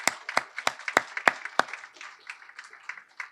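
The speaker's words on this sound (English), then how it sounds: "So let's give them a big round of applause." A small crowd at a city's State of the City event gives a round of applause for Planning Commission members: about six crisp, close claps open it, then thinner, scattered clapping trails off.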